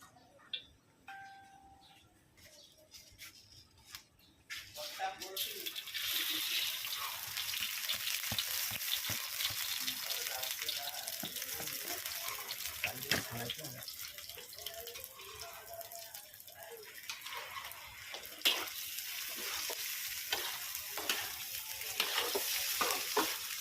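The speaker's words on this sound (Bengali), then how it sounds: "এখন আমরা পোলাও রাইসটা ভেজে নেবো সুন্দর করে" Polao rice sizzles and crackles steadily as it fries in a hot pan, with occasional scraping stirs and no talking, growing a little louder after the first few seconds.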